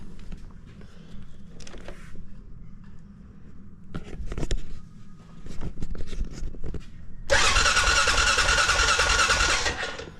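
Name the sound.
Honda Foreman ATV engine cranking but not starting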